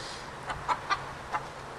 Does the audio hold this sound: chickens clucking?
yes